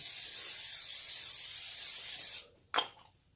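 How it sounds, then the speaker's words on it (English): A steady hiss of aerosol cooking spray for a couple of seconds, then it cuts off, followed by a short sharp clatter. "Spray the pan."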